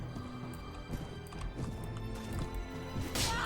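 Horse hooves thud in a steady galloping clip-clop during a medieval battle in Mount and Blade: Warband, mixed with battle noise and a sharp clash near the end.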